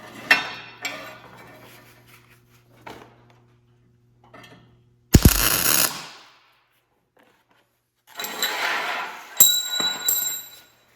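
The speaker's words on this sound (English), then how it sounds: "start grabbing pins and dropping them in" Metal pins dropped one after another into homemade track links, giving sharp clinks and rattling bursts that come in separate clusters with quiet gaps between them, close by.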